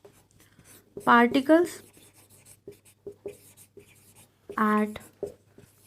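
Chalk or marker scratching on a board during a Class 12 chemistry lesson on solid state, light intermittent strokes running under a teacher's Hindi speech.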